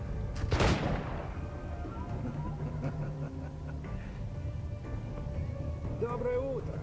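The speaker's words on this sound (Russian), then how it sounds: "кругом мы слышим одни выстрелы" Gunfire from the video game Assassin's Creed 4 Black Flag: one loud, sharp blast near the start, then a dense rumbling game soundscape, with a voice speaking briefly at the end.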